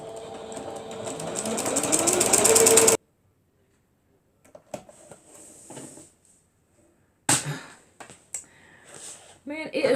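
A sewing machine stitching in a rapid, rising mechanical whir for about three seconds, then stopping abruptly, followed by scattered clicks, rustles and handling sounds with a voice speaking.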